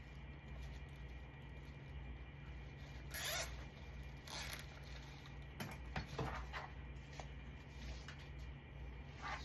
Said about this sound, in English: go ahead and just zip tie this through here